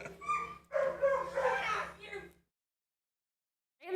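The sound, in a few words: dogs barking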